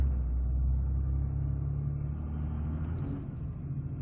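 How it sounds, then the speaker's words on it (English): A truck on 37-inch Venom Ice Hunter winter tires drives in two-wheel drive, its engine giving a steady, close, low rumble with a slight easing partway through. "I'm just gonna drive around two-wheel drive right now"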